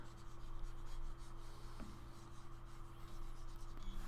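Soft, continuous scratchy rubbing of a line being erased on a board or tablet during a math lecture, faint and close over a low steady hum, with no voice.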